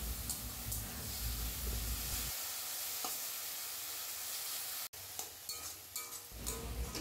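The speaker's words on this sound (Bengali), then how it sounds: "এবারে এমনি নর্মাল একটু নেড়ে নেড়ে ভেজে নিতে হবে।" Boiled jute leaves stir-fried with onion in a pan give a steady sizzle and hiss, broken by occasional stirring scrapes and a brief dip partway through.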